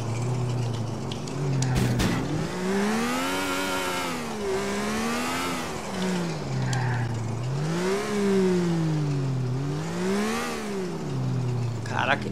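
A car engine in GTA 4 online revs up and down over and over in rising and falling sweeps, loud and close, with a sharp knock near the start.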